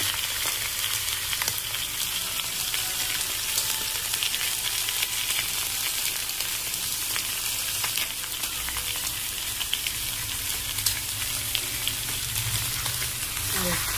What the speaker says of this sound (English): Both the legs need to be browned.